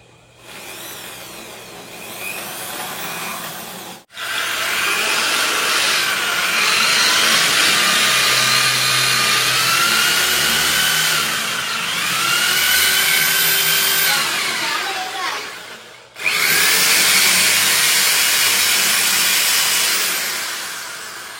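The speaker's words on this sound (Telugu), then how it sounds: "ఇప్పుడైతే నేనైతే ఇక్కడ హోల్ వేస్తున్నాను" A power drill boring a hole in a mini home fit-out runs loud and close in long sustained whines with shifting pitch, pausing briefly twice.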